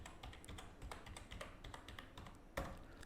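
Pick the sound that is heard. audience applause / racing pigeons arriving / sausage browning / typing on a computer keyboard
typing on a computer keyboard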